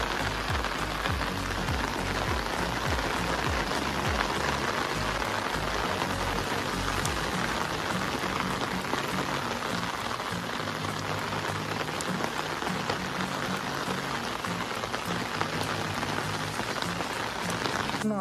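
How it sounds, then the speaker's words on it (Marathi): Heavy monsoon rain pours steadily onto surfaces in a dense, continuous hiss with pattering drops, close and loud throughout, with no voices. "बघा कसा पाऊस पडायला लागलाय।"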